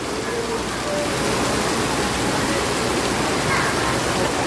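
Heavy rain pours in a dense, loud, unbroken roar that fills the whole stretch.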